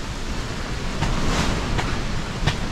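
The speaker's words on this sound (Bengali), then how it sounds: "এখনও ঝড় হচ্ছে।" Strong storm wind roars steadily in a reserve forest in Bandarban, a dense rushing noise with a few brief gusts swelling over it.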